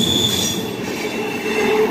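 A long CSX freight train hauled by SD40-3 locomotives rolls past close by, a steady loud rumble of railcars with wheels squealing against the rails throughout.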